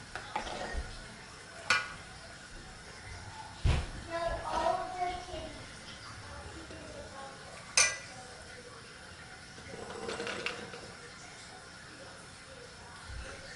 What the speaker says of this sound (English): we're going to use our metal slotted spoon to remove any of the liquid that was left during cooking